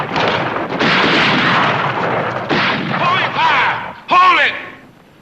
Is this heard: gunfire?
yes